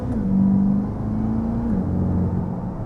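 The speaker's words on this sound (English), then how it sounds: "Hear that exhaust?" Exhaust of a C8 Corvette convertible with the rear window down, heard as a loud, steady low drone with a rising and settling engine tone, close and without talk.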